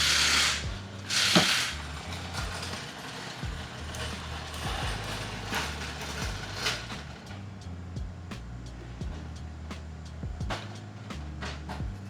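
A ratchet works the 12 mm nut off the shifter linkage of a G35's automatic shift assembly, giving soft, fast clicking and mechanical rattles close by, with no talk over it.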